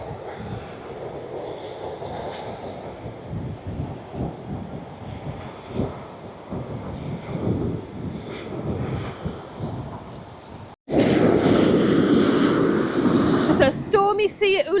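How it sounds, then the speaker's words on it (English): Stormy sea waves and gusting wind roar on a beach at Ölüdeniz, buffeting the microphone in heavy, rumbling surges, with people talking faintly underneath and a sudden louder gust near the end. "It's a stormy sea at Ula-Denise today."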